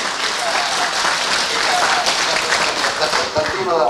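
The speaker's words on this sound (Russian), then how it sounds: "Аплодисменты!" An audience bursts into loud, dense applause for a gift certificate winner, continuous close clapping filling the whole stretch with faint voices underneath.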